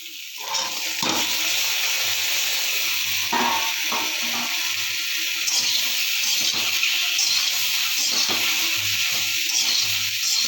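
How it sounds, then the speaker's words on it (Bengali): Green peas tipped into a pan of frying banana, beans, potato and onion, with a loud continuous close sizzle and hiss and a few soft knocks and thuds scattered through it. "কলা, বিনস, আলু, পেঁয়াজ দিয়ে ভাজা ভাজা করছি। এবারে কড়াইশুঁটিটা দিয়ে দেবো।"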